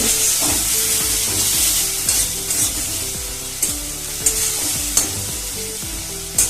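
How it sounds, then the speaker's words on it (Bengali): Ground spice masala with a little water sautés in a pan for an egg curry, giving a loud hissing sizzle and rhythmic scraping stirs, with a few sharp spatula knocks toward the end. "মশলাটা ভালো করে একটু কষিয়ে নেব।"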